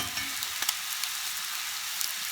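Sausage fries in a pan, giving an even, bright sizzle that holds steady for a couple of seconds with a few faint pops and no voices.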